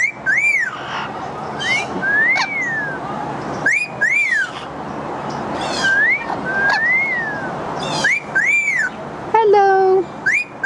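A bird at a wildlife rehab center gives loud, close rising-and-falling whistles, repeated every second or so, ending with a quick trilled series.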